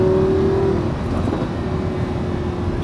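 A Lamborghini Huracan 580-2 V10 engine roars loudly and steadily at close range, a deep sustained drone under acceleration with no talking.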